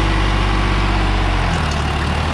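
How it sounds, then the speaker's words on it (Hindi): A Preet 955 tractor with radial tyres and an 8x8 harrow, its diesel engine running loud and steady with a deep, continuous low rumble close by and no talk. "ट्रैक्टर स्टार्ट हो गया"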